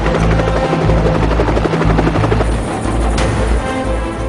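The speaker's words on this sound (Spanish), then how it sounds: "un escuadrón de 4 helicópteros Little Bird, apoyado por 4 Black Hawks, sale de los buques estadounidenses" Little Bird and Black Hawk military helicopters flying, a loud, continuous rotor thump with a droning engine whine that stays close and steady throughout, with no talking.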